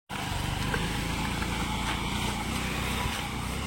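A car engine labors with a steady, droning hum as it strains up a hill road toward Mandaragiri hill in Angul, running continuously at a moderate level with no talk over it.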